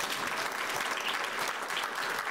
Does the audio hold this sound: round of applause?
yes